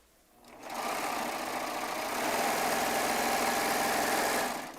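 A Baby Lock Triumph serger runs continuously for about four seconds while sewing quilt block rows together, a loud, steady mechanical hum close by with no speech.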